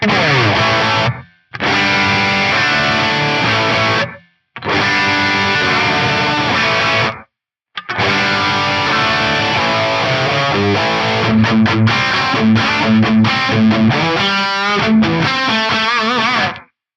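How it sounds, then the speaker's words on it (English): Distorted electric guitar chords ring out in bursts, each cut off abruptly by a gated reverb impulse response, then a longer riff with bends and pick scrapes. "So this is with a gated reverb IR."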